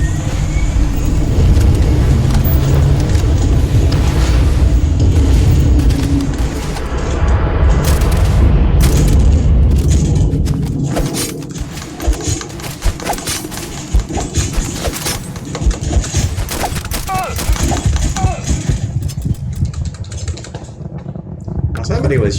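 Gunfire and loud booms in the space RPG video game Starfield, dense and continuous through a heavy roar of game action, thinning into scattered sharp cracks and bursts later on.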